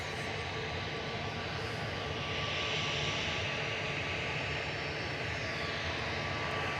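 Jet2 Boeing 737-800 airliner at Manchester Airport, a steady broadband jet engine roar that holds loud and constant throughout, with a slight swell in the middle as the aircraft passes.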